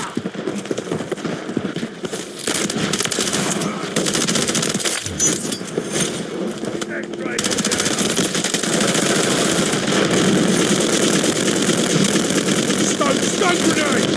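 Incoming gunfire in a military shooter video game, with rapid bursts and cracks over a constant loud roar of battle noise, and game voice callouts mixed in.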